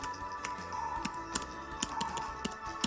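Quick, uneven keystrokes clack on a Panasonic Toughbook laptop keyboard, sharp close taps in small bursts with short pauses between them, over a faint steady electronic hum.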